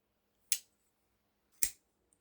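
Eafengrow folding knife snapping open twice, each a sharp, close metallic click about a second apart, with near silence between them.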